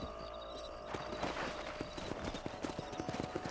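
Horse hooves clip-clop quickly and rhythmically in Red Dead Redemption, a close galloping patter over a busy game soundscape with faint background sounds.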